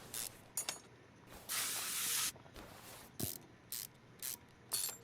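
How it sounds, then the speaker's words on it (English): Short bursts of spray hiss on frozen nuts and bolts in the video game Car Mechanic Simulator 2021, mixed with ratcheting clicks and one longer spray, close and clear, with no talking. "now we've got to spray all these nuts and bolts"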